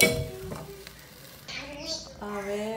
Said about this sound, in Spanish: 2 cucharadas de aceite de oliva. Y voy a dejar que esto se sofría un poco.